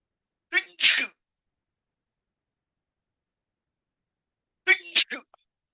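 Two sharp, close sneezes break the silence, one near the start and another a few seconds later, each a quick explosive burst.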